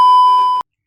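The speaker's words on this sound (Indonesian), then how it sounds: "ada telepon." A phone call alert sounds as a single loud, steady electronic beep tone lasting about half a second before stopping abruptly.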